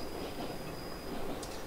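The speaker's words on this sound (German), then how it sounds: "Der Zug ist leider schneller als wir." A train on the Albula railway line rumbles faintly in the distance, a low steady rolling noise with a thin high whine running through it and a brief squeal near the end.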